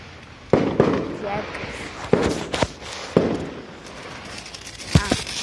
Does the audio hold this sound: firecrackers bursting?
yes